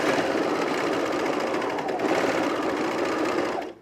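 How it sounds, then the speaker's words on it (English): An overlocker runs continuously at close range while sewing the side seams of a pullover camp shirt, a steady loud mechanical whir that holds for nearly four seconds before cutting off at the end. "We're just gonna overlock the side seams and then the underarm seam of the shirt."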